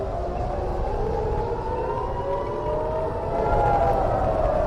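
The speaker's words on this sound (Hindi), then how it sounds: "पूरे इजराइल में इस वक्त सायरन की आवाजें बज रही हैं" Air raid sirens wail across Israel during an Iranian attack, a steady rising tone heard from a distance under a broad wash of background noise, with no voices.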